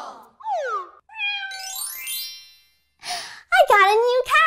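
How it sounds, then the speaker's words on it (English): A house cat meows in several drawn-out, rising and falling calls with short gaps between them, close by and fairly loud, followed by an excited voice speaking or squealing. "Hey, did I hear a cat?"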